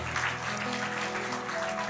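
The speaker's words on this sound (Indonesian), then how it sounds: "Tepuk tangan bagi Tuhan kita." A church congregation clapping during a Christmas-season sermon, a steady, moderate wash of hands held evenly for about two seconds over a sustained low musical drone.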